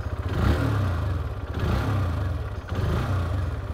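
A 2023 Hero Xtreme 160R 4V 160cc motorcycle engine revved at standstill, three rising blips with a throaty low exhaust note that surge and fall back to idle, close and fairly loud, no talking.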